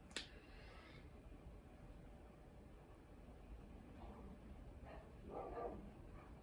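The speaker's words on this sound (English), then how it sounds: "they bark at pretty much everything" Dogs barking indoors in a home, faint and somewhat distant, a sharp yip at the start followed by a few scattered barks later over a quiet background hiss.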